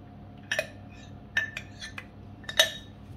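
Milk with diluted cornstarch stirred in a pot, a few light metallic clinks and scrapes of a utensil against the pan in short bursts, fairly close, with no talking.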